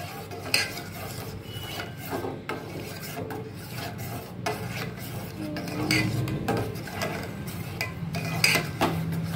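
A spoon scrapes and rubs around a pot as pineapple-flavour paste is stirred into warm milk, an irregular series of close, soft rasping strokes with occasional light clinks of metal.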